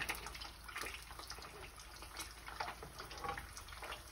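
Water spattering in a frying pan as eggs cook, a faint, steady crackle of small pops and sputters with no voices over it.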